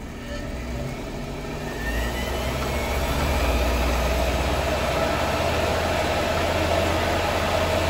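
A column mill converted to run on a treadmill motor, its speed varied by fine and coarse speed control knobs, produces a steady broadband whir and hum that grows louder after about two seconds and holds there. No one speaks.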